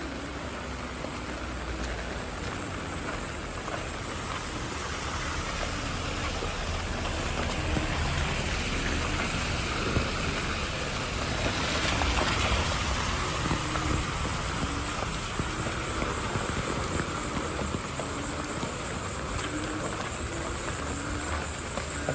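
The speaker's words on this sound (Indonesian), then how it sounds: "hujan turun ya." Steady rain falls on a city street at night in Banda Aceh, a dense, even hiss that holds for the whole stretch with no voices.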